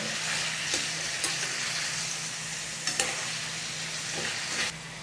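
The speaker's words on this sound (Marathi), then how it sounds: "आता याला मस्त फ्राय करून घेऊ 3 ते 4 मिनिटं" Green chillies fry over high heat in an open pan with a steady, close sizzle, broken by several sharp scraping stirs of a spoon against the pan.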